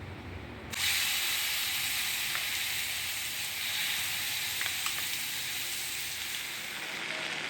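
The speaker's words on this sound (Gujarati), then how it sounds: "તેલ વધ્યું હતું એમાંથી બધું કાઢી થોડુંક રાખ્યું છે. એમાં જ આપણી ચટણી વઘારી લઈશું." Chutney tempered in leftover hot oil with asafoetida for a khawsa meal, bursting into a loud, steady sizzle after a brief quiet start and hissing on without pause, close by, with no talking.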